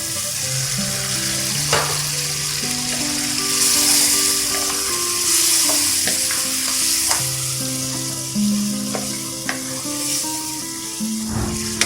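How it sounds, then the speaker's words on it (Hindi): Mutton korma sizzling steadily in a pan while being stirred after tomato paste is added, a continuous loud fry hiss with scraping stir sounds and clinks of a utensil, no talking. "अब इसको 5 मिनट हो गए फ्राई करते हुए। अब इसमें बाकी के बचे हुए टमाटर पेस्ट डाल देंगे।"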